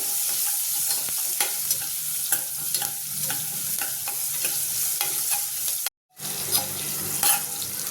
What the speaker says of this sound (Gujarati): ડુંગળીને બરોબર સાતળી લેવાની છે